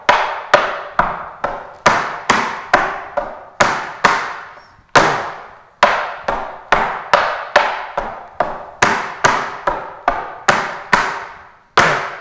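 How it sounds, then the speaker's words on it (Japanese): Tap dance shoes strike a hard floor in press cramp roll steps: crisp, close, loud clicks arrive in quick rhythmic clusters of two to four beats for about twelve seconds, with no talking. "もう一回右足からプレスクランプル。"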